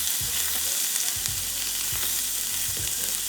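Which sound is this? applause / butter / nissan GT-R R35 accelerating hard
butter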